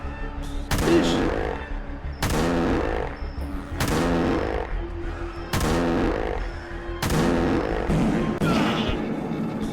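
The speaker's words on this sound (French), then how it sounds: "on va sortir l'arme" A weapon fires in a video game: about six loud, booming shots at fairly regular intervals, each fading briefly before the next.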